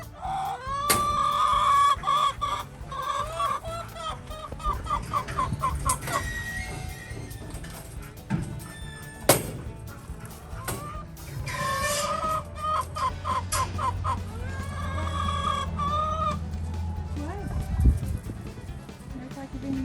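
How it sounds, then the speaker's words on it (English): Several chickens cluck and squawk nearby in short, irregular bursts, with a rooster-like call mixed in and a low rumble underneath. "There's the chickens."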